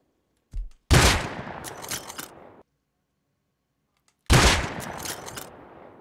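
Video game gunfire during a headshot exchange comes as two loud, close bursts of rapid shots a few seconds apart. Each burst trails off into a fading decay, with silence between them.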